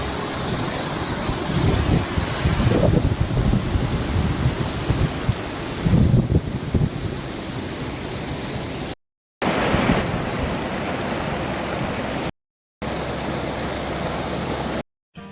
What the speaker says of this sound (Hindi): करिकल बहती हुई भागीरथी नदी